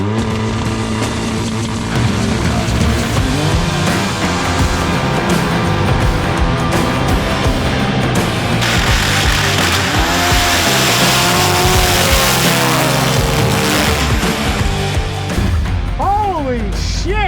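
A dune sand car with paddle tires at full throttle at a dune event, its engine roaring loud and close throughout, pitch climbing and shifting as it accelerates, with people shouting over it.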